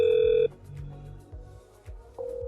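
Zoiper softphone rings on a VoIP test call between FreePBX servers, a steady electronic tone sounding twice with a pause between, over low background noise.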